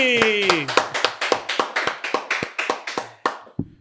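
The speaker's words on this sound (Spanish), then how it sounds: "quiero que recibamos con un fuerte aplauso" A studio audience on a talk show claps in a steady, rapid burst of applause lasting several seconds, fading near the end.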